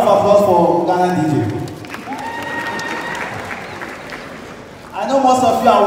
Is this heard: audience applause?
yes